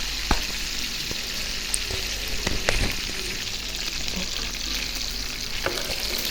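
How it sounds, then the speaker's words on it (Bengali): Fish frying in oil in a pan, a steady broadband sizzle with occasional pops and clicks of stirring, with no talk. "তো এখানে আমি মাছ ভাজা করতেছি"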